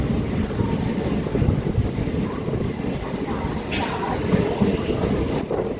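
An MMTS local train pulls away from Hitech City station on the Lingampalli–Medchal line, with a steady, dense rumble of wheels and carriages. A few brief sharp clicks rise above the continuous roar, and faint voices murmur underneath.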